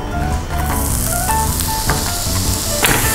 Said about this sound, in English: once the ghee is melted, I'll add in the onion